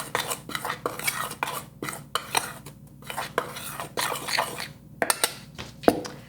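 Cornstarch, flour and a pinch of salt get mixed in a bowl for a German no-bake cheese-cream cake, with a steady run of close scraping and clinking strokes from a utensil against the bowl and no talk.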